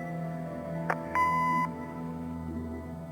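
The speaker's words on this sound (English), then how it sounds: "Leave a message after the beep." In the video game Kathy Rain, an answering machine gives a single steady electronic beep, preceded by a short click, clear over a quiet hum.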